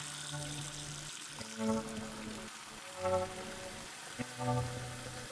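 Running water rinses developed Kodak Vision3 500T color negative film inside a developing tank, a steady close wash of flowing, splashing water with a few brief louder gushes.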